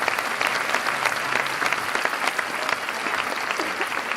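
Audience applause at a district arts festival, a steady wash of many hands clapping at moderate level throughout, without voices standing out.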